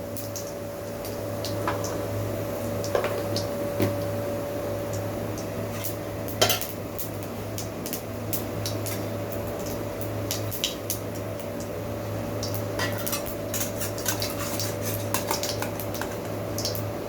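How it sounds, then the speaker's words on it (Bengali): Cumin seeds temper in sunflower oil in a pan while a utensil stirs. Scattered metallic clicks and scrapes sound over a faint, steady sizzle and a low background hum, with no talking. "সামান্য জিরা ফোড়নে দিয়ে দিলাম।"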